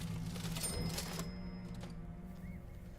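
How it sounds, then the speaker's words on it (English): Cash register in Dishonored 2, a brief mechanical clatter and ring near the start, then quieter room ambience with faint clicks, no talking. "I thought the cash registers were like a distraction technique."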